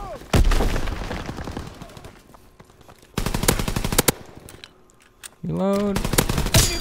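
Close, loud bursts of automatic machine pistol fire in Call of Duty WW2 multiplayer, a few separate volleys broken by quieter gaps, with a voice briefly heard among the game sounds.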